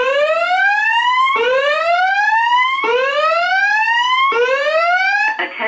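A building fire alarm evacuation signal sounds at home test volume: four loud rising electronic whoops, each sweeping upward and then restarting, in a steady repeating rhythm with nothing else over them.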